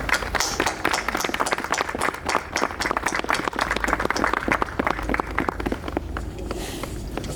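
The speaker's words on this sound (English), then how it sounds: "Please join me in a round of applause." An audience claps at a ribbon-cutting and archive dedication for the new visitor center and tasting room at Four Roses Distillery, a dense patter of hands sustained for several seconds at moderate volume.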